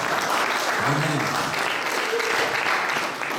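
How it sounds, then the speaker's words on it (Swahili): Dense applause from a church audience at a Sifa praise night fills the room the whole time, with a brief voice rising through the clapping near the start. "Wacha kwa watu wa makofi."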